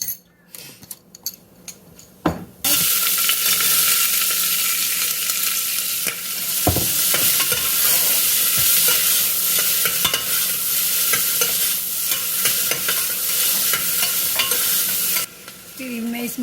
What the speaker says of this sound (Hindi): ये मैं इसमें डालूंगी 1 चम्मच घी, एक चम्मच इसमें मैं डालूंगी जीरा